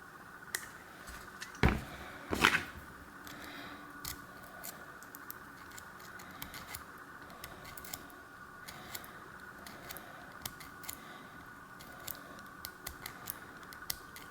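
A gunked-up Shimano Alivio rapid fire bike shifter mechanism being worked back and forth, giving faint repeated clicks and ticks, with a couple of louder clacks near the start.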